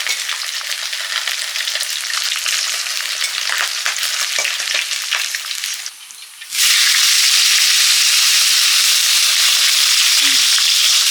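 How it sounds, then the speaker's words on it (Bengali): A fish head sizzles and crackles steadily in hot oil, with a brief dip in the middle before the frying hiss returns louder and denser. "মুড়ো ভাজা হয়ে গেছে"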